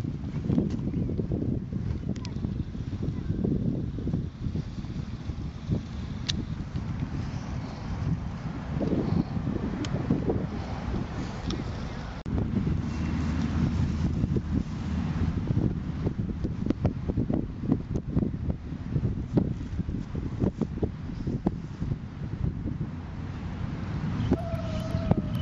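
Steady gusting wind roars across an outdoor microphone while a kite is flown on a taut line, a continuous low buffeting rush that swells and eases for the whole stretch with no talk.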